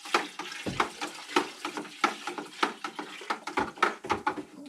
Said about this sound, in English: get the stirring up.